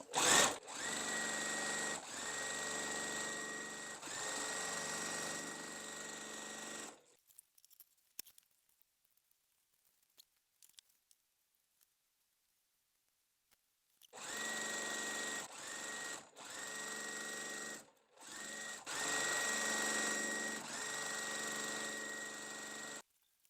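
Sewing machine stitching a quilt block, running in two bursts of steady buzzing hum with a long quiet pause between them, close and fairly loud with no talking.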